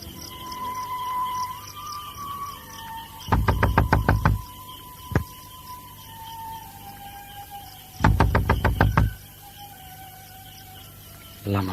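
Radio-drama door knocking sounds in two loud bursts of rapid knocks with a single knock between them, set over a steady night ambience of chirping crickets and insects.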